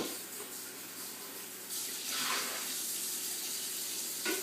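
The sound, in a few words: rinsing fish tank with tap water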